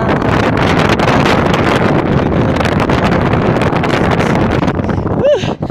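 Loud, constant wind buffeting the microphone on a mountain climb in Baler, Aurora, a heavy roaring rush throughout, with a brief voice-like sound near the end.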